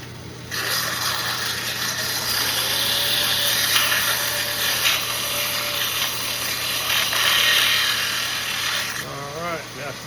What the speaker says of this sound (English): Get a little sandpaper in there.